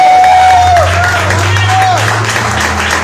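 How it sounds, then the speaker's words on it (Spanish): A church congregation claps steadily in dense applause throughout a sermon, with a voice or music tone carrying over the top. "Den un fuerte aplauso al Rey de Reyes y Señor de Señores."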